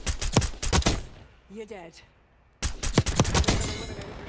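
Rapid pistol fire from a 9MM PM in Black Ops 6 snaps out in quick, loud bursts, splits around a brief lull filled with game sounds, then resumes with more crackling shots as a player speaks briefly.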